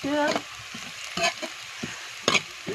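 Soft sizzling of a tadka tempering in a hot pan comes with intermittent scraping stir strokes; a short tonal burst opens the clip.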